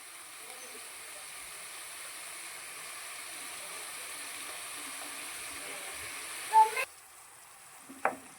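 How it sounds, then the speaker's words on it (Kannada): Stuffed brinjal (baingan) coated in masala frying in oil on a stovetop at medium flame, a steady, even sizzle that drops out near the end, followed by a couple of short clattering knocks. "ಇವಾಗ ಇದು ಎಣ್ಣೆಯಲ್ಲಿ ಫ್ರೈ ಆಗಬೇಕು ನಾನು ಈಗ ಮೀಡಿಯಮ್ ಫ್ಲೇಮಲ್ಲಿ ಇಟ್ಕೊಂಡಿದ್ದೇನೆ ಸ್ಟವನ್ನು"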